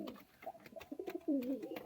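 Desi Giribaz pigeons coo close by in soft, throaty, rolling calls, several overlapping phrases in a row with faint rustling in the background.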